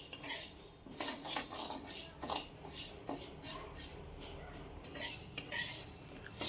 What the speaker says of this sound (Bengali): শুকনো খোলায় মুগের ডালটা ভেজে নেব।